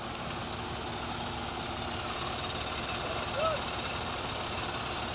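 A tractor engine runs near a ten-wheel sugarcane truck stuck in mud, giving a steady, loud, rumbling drone throughout with a brief knock partway through.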